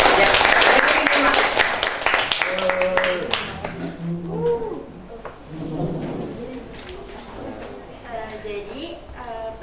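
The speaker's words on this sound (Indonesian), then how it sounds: "Tepuk tangan dulu buat kita." Applause from a classroom of students, a burst of clapping that fades within a few seconds as children's voices and chatter take over.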